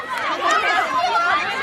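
Loud, close sideline yelling and cheering at a women's ultimate frisbee championship final in Germany, with several voices shouting over one another in a continuous burst of excited crowd noise.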